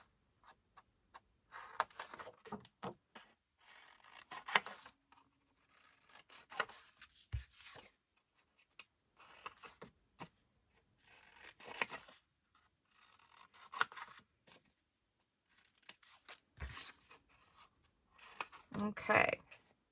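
Paper pocket corners for a scrapbook recipe album are mitered, giving quiet intermittent scraping and snipping sounds with soft taps. They come in short clusters separated by near silence, up close, and a few clicks sound at the end.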